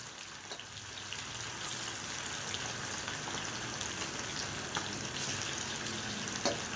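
Paniyaram pieces frying in a pan give off a steady, close sizzle, an even crackling hiss broken by occasional sharper pops, with no speech.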